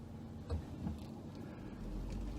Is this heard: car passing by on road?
yes